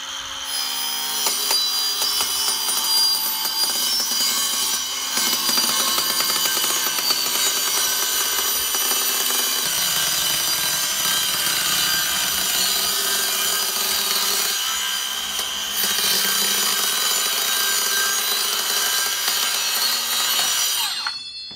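Fine-toothed saw blade cutting a Tuftex greenhouse poly panel, with continuous loud, close rasping across the whole stretch and a few brief changes in pitch as the cut progresses.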